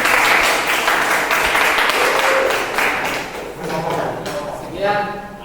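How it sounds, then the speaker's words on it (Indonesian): A classroom audience claps for a group presentation, a dense burst of applause that fades over a few seconds while voices carry on beneath it. "Kita kasih aplaus untuk kelompok 1"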